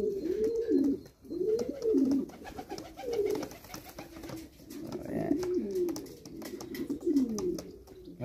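Young pigeons coo in a steady series of soft, rolling calls, close by and fairly loud, repeating about every second or two with no talking over them.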